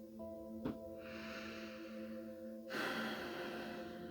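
Slow breathing in and out through the nose during a seated relaxation meditation, with soft airy inhales and exhales, one short sharp sniff early on and a fuller breath near the end, close and quiet against a faint steady tone.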